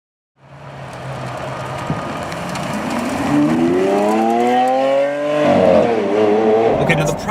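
Lamborghini Aventador SV engine pulling hard through the gears while driving, a loud rising howl with gear changes, close and continuous, partly under faint talk.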